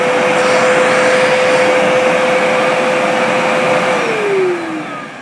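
A Vevor 4 gallon 5 HP wet and dry vac runs with a loud, steady whine and airy rush close by, then begins to wind down near the end, with no talking.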